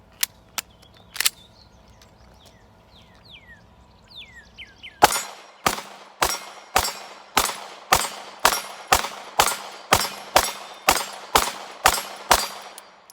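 Canik METE MC9 pistol fired outdoors at a range, a loud, sharp, evenly spaced string of about fifteen shots from a 15-round magazine, each ringing briefly, after a few earlier isolated pops and faint birdsong.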